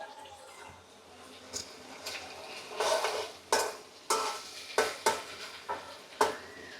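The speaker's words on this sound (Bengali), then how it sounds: "মাছগুলো একটু নাড়াচাড়া করে দিতে হবে যাতে মশলাগুলো গায়ে লেগে যায়" Fish gets stirred in a spiced pan with a little water, a series of soft scraping and clinking strokes from a utensil over a faint low simmer, spaced irregularly.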